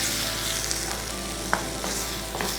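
Tomatoes sautéing in a pan while a fish curry is prepared, giving a steady close sizzle with faint stirring scrapes and one sharper clink partway through, with no talking.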